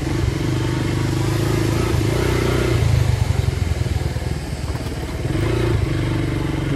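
A motorcycle rides over a bumpy paved road, its engine humming steadily up close with a jittery, bouncing rattle running through it and brief rises in revs.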